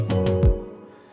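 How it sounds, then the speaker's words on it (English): Two programmed toms, one higher and one lower, sound a quick few strikes in a beat built in Studio One 4, the final lower hit dropping in pitch as it decays. "for the toms, we had a higher pitched tom and a lower pitched tom"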